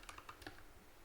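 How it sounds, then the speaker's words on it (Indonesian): Someone types a command on a computer keyboard in a Kali Linux terminal, a handful of quick light key clicks in an uneven rhythm, close and quiet with no voice. "lalu kita akan mengetik skipfish"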